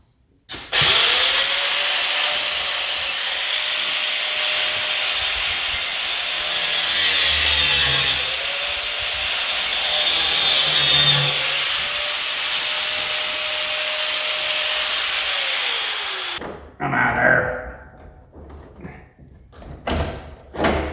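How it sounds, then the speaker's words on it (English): A grinder run on a Dodge truck being torn apart, a loud continuous high whine held for about fifteen seconds with slight pitch dips, then it spins down and gives way to a few clanks and handling noises. "I wonder how good I am with that grinder."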